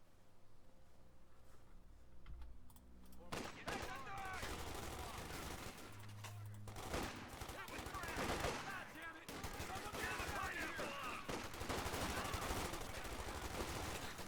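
Battlefield gunfire in the World War II strategy game Company of Heroes 2: Ardennes Assault, sustained machine-gun bursts and rifle shots crackling densely for most of the span, with brief voiced unit callouts mixed in.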